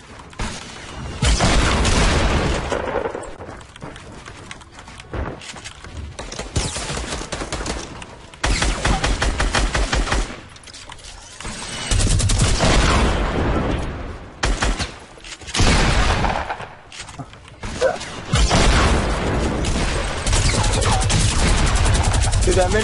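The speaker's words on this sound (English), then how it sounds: "Get that minigun, baby!" Minigun fire in the video game Fortnite, long loud bursts of rapid gunfire with booms and crashes, broken by short gaps, with excited voices talking over it.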